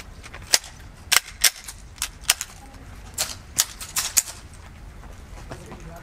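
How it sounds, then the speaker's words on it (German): About a dozen sharp service pistol shots crack out at uneven intervals, some in quick pairs, loud against a quiet outdoor shooting range background. "So, wir schießen"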